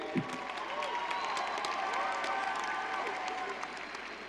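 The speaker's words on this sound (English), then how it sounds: "You can cheer." A high school graduation audience applauds and cheers steadily, the clapping dense and fairly distant, filling the hall without a break.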